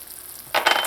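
Flour goes into a lobster chowder base in a pot, giving a brief sizzle and a stirring scrape that rises suddenly partway through and stays close and fairly loud.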